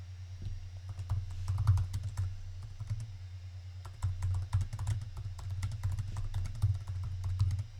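An email being typed on a computer keyboard, with quick irregular key taps at close range over a low steady hum, heard alone without talking.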